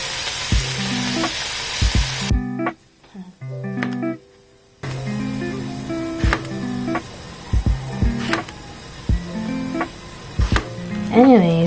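Food frying in a pan with a steady sizzle, broken by utensil knocks and scrapes and a brief quieter gap, while a voice talks intermittently nearby.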